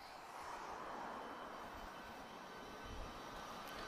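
A Boeing 757 fitted with Pratt & Whitney engines departing Lisbon Airport gives a steady, broad roar with deep low rumble, heard from a distance and holding constant throughout without talk.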